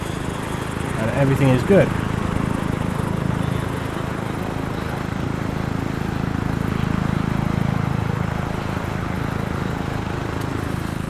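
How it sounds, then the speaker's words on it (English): A helicopter in the video game Arma 3 flies with a steady, droning rotor and engine hum that fills the whole stretch, while someone talks over it. "Fly the helicopter around in here"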